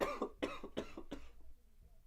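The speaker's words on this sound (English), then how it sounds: "I'm trying not to cough into the mic." A man coughs several times into a nearby podcast microphone, a rapid cluster of four or five harsh, close bursts that trails off into quiet breathing.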